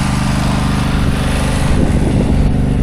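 A Husqvarna ride-on lawn mower engine runs steadily and loudly close by, a continuous droning roar with a buzzy rhythmic pulse that stays even throughout.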